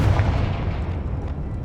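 A Confringo spell explosion in the Hogwarts video game, a dull low boom with a rumbling tail that slowly fades over under two seconds, with no voice over it.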